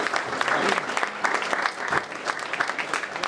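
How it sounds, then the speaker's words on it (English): Audience at an East Alabama Chamber of Commerce breakfast event applauding platinum members, steady clapping from a crowd filling the room at moderate level throughout. "Please, a round of applause for all of our platinum members."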